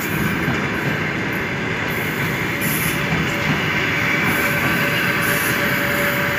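The Riga–Vilnius–Kyiv special passenger train rolls away along the rails with a loud, continuous rumble of wheels, faint squeals and rhythmic clacking.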